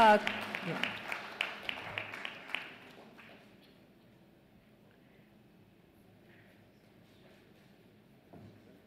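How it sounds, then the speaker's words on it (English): Audience applause at a public campaign launch event, a burst of clapping with sharp repeated claps over the first three seconds, then fading into quiet room ambience with faint murmurs. "Join me in a warm round of applause."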